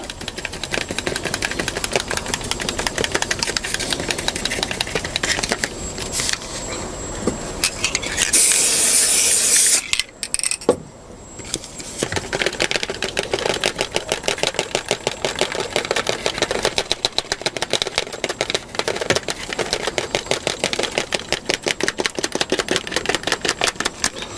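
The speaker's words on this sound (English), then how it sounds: "go straight in there with the grass applicator, and it is starting to lift the grass up quite high actually." An electrostatic static grass applicator lifts grass fibres onto a model railway embankment with a continuous loud buzzing hiss and a rapid crackling texture. It breaks off briefly around the middle, then resumes steadily.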